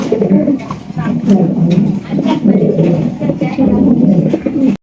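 Pigeons of the Maltese and Shekhar breeds coo in loud, close, repeated throaty phrases, mixed with someone speaking over them.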